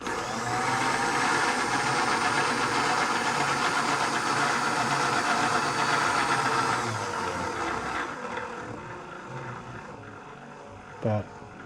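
A servo power feed drives a milling machine table in a loud, steady motor whine with a grinding edge that winds down partway through, ending with a brief clunk.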